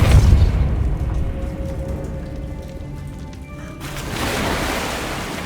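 A Depulso spell cast in Hogwarts Legacy releases a broad rushing burst with a low boom underneath, then gives way to a brighter hiss toward the end. No voices.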